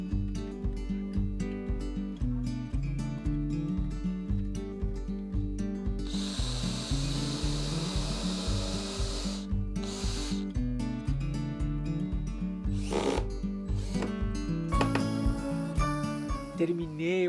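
A power drill driving screws through plywood sheets into a motorhome floor, repeated whirring bursts with rhythmic thumps and clattering handling noises throughout, close and fairly loud, with no talk.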